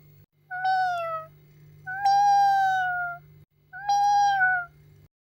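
A small kitten meows three times in quick succession, close and clear, each cry drawn out, over a steady low hum with no talking.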